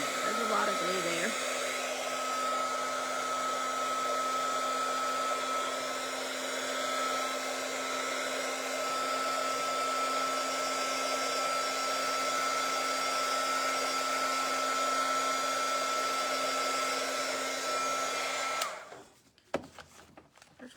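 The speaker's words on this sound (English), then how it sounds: "I'm going to dry this glue." Heat tool blowing on glue on a paper journal card: a steady, loud whirring hiss with a constant whine runs about eighteen seconds, then cuts off into quiet handling noises.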